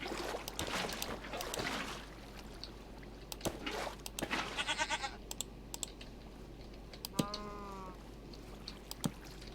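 A goat in the Minecraft video game bleats a couple of times, short wavering cries over a steady hum, mixed with quick keyboard typing and mouse clicks.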